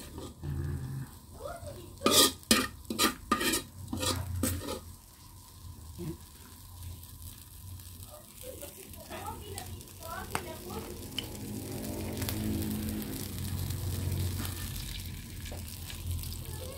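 Tomatoes sizzle and are stirred in a pan while being sautéed for ginisang beans, with sharp scraping clatters early and a steadier sizzle later as a person talks over it.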